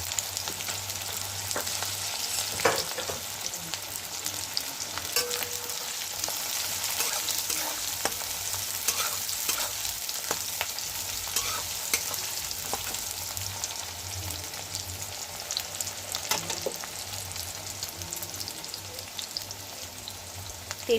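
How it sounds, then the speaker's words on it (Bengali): Chopped onions fry in hot oil in a kadai with a continuous, even crackling sizzle, close and steady throughout, with occasional light stirring clicks and no voices. "দিয়ে দিচ্ছি কড়াতে পেঁয়াজ কুচি।"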